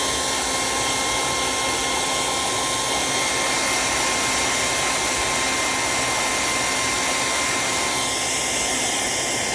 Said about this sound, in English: I got a hair dryer to just heat up everything and just stick it on real quick